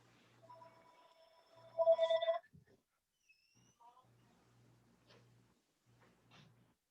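A telephone rings once with a bright electronic burst in a quiet room, followed by faint scattered clicks and low hum.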